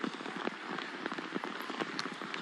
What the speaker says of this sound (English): Pouring rain, blood, mud everywhere.